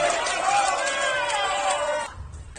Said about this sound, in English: Oh, now the crowd's getting into it.